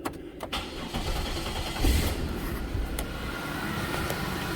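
A truck engine is restarted after a water pump bolt repair. A short crank catches and settles into a steady, fairly quiet idle, heard up close without talk.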